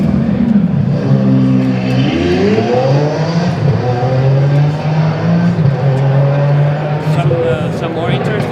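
Recorded engine revving from a LEGO Technic Lamborghini Sián display at the Canadian International AutoShow, rising and falling in pitch over several seconds, with people talking nearby throughout.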